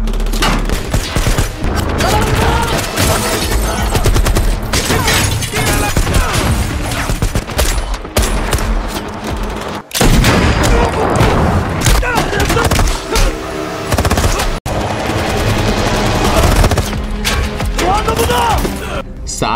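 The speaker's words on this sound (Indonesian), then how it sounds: "Saat sedang baku tembak" Dense gunfire in a film firefight during a hostage rescue by an airline pilot, rapid bursts and booms overlapping continuously and loudly, with a short break midway and shouted voices mixed in.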